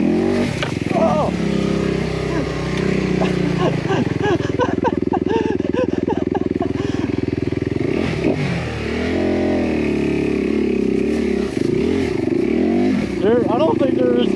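A Honda CRF250R dirt bike engine revs and drones steadily throughout the ride, rising and falling with the throttle, while a rider talks over it at times.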